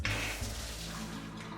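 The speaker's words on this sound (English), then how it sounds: "start the water, and that will drain the hose" Water runs from a faucet through a hose as it drains, a steady, moderately loud rushing flow over a short stretch with no voices.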